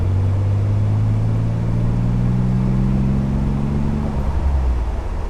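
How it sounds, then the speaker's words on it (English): The Nissan 300ZX twin turbo, a barn-find rebuild, drones steadily from inside the cabin, with a rising whine climbing over the low engine note before fading near the end, loud and close. "Oh, did you hear the turbos?"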